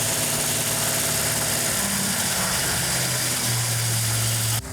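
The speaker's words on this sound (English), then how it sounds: "That's a good idle right there for right now. It's a little high, but that's okay." A 1969 Plymouth Barracuda V8 idling just after cam break-in, a steady, loud, continuous rumble with a fast idle held throughout and no talking.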